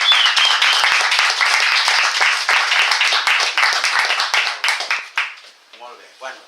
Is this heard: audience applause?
yes